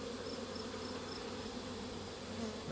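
Honey bees buzz in a busy apiary, a steady, dense hum of many insects close by, continuous and fairly quiet with no talk.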